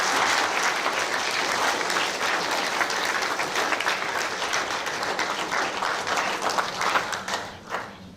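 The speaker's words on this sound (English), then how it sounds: "Can we give the School Senators 2021 a massive round of applause?" Sustained audience applause at a school prizegiving for Manurewa Intermediate School, a dense crowd clapping steadily at close range that thins and fades toward the end.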